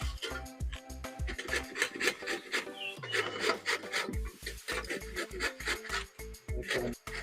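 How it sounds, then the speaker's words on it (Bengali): Cauliflower rubbed against a grater for a paratha filling, a quick rhythmic series of raspy scraping strokes close by, with a brief pause partway through before the strokes resume. "আমরা পুর দেওয়ার জন্য যে ফুলকপি নিয়ে নিয়েছি সেটা এখন ঘষে নেব।"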